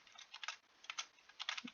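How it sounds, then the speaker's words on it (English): Quick bursts of keystrokes on a computer keyboard, close and fairly faint, coming in three short clusters with small pauses between them. "So I can just try typing in"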